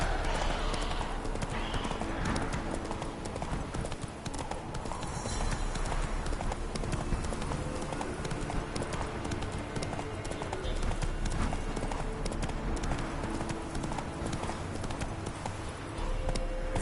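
Geralt's horse Roach galloping in The Witcher 3 video game, rapid rhythmic hoofbeats clip-clopping continuously and close over game ambience, with a voice speaking at times.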